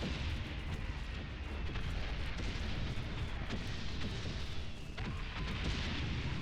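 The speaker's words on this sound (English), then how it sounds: "Damn artillery." Rumbling artillery fire and explosions in the World War I video game Valiant Hearts: The Great War, a dense, continuous roar of booms and bursts, loud throughout.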